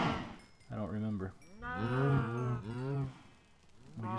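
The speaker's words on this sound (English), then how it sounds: "Maybe more than that. Maybe I have 60 cows here." Cattle in a video game moo repeatedly in long, drawn-out, moderately close calls, several overlapping lows rising and falling one after another with brief pauses between.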